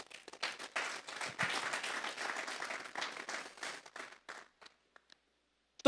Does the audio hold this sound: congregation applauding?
yes